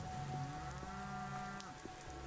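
Cattle mooing in the rain in the video game Pathologic 3: a long, low, tonal moo with a second call overlapping, faint and somewhat distant over a light, steady patter of rainfall, no speech.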